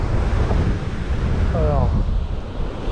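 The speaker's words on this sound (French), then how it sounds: "Oh là là, il y a un vent." Strong sea wind buffets the microphone while fishing from shore, a loud, constant roaring rumble with a short voiced sound partway through.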